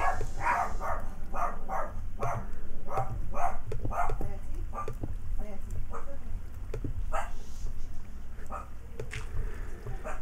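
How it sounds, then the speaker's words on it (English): Tamed dogs in Minecraft bark repeatedly in short, excited bursts against steady background noise while a player talks over them. "Oh, something has the dogs all worked up."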